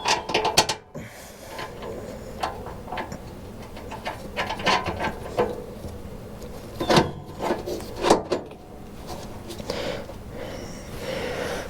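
Bolts being fitted on an Ariens ST824 snow thrower during a refurbish, a series of close metallic clicks, taps and ratcheting knocks in uneven bursts over a low background hum.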